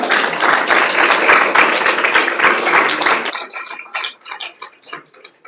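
A conference audience applauds loudly for about three seconds, then the clapping thins out into a few scattered, fading claps.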